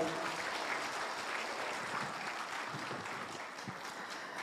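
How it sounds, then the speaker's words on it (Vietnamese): A round of applause from the assembly at a memorial service for an elder Buddhist monk at a monastery in California, heard as faint, distant, continuous clapping spread across the room, with a few low thumps underneath. "xin đại chúng cho một tràng pháo tay."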